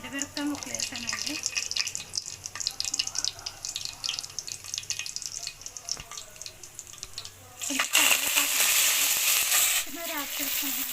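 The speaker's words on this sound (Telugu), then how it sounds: "కొద్దిగా జీలకర్ర వేసాను. ఇది ఎండుమిరపకాయ ముక్కలు వేసానండి." Cumin seeds and dried red chilli pieces frying in hot oil give a steady, close crackling sizzle that swells noticeably louder near the end.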